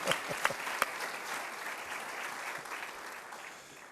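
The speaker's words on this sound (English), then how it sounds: "we should also especially applaud the task force chair, Kelly Duran." Audience applause at a college's fall state-of-the-college address, a steady wash of many hands clapping with a few sharp louder claps early on, tapering gradually over four seconds.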